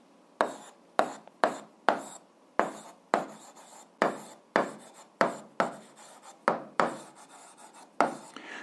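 Pen or chalk strokes write out a math solution, about a dozen sharp separate scratches in an uneven rhythm, close and clear with no talk.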